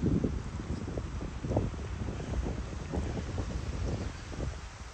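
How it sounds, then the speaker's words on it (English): Strong wind buffets the microphone in a park in Istanbul during a tulip festival, a constant loud rushing with gusty low thumps and no voices. "The weather is so perfect, but extremely windy,"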